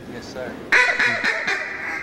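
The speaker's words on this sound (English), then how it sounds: "There's so many ducks, you don't know which one to call to" Several ducks quack in a rapid, overlapping chatter close by, with a man's brief spoken reply just before the calls begin.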